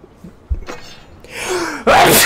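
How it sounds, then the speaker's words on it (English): A single close, loud sneeze from a man, preceded by a sharp inhaling gasp, then ending in an abrupt forceful burst. "I have to sneeze."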